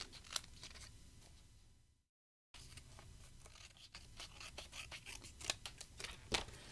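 Scissors snip and trim along the back of craft material for a forest gnome, a close, quiet run of cuts broken by a brief silent gap, then faster, busier snipping.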